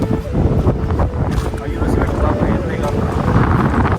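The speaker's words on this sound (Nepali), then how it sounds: "हावा मस्तले चलिरहेछ।" Strong wind gusts across a shipyard in South Korea, a loud, continuous roar with rumbling buffeting against the microphone, steady throughout with a faint voice mixed in.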